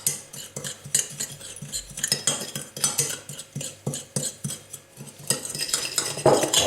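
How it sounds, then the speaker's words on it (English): A spice rub for slow-cooked beef brisket being mixed in a bowl, with continuous rhythmic scraping and clinking of a utensil against the bowl, loud and close. "So just putting all those into the bowl. That's fine. And as you can see, that's all this. I'm just giving that a mix together."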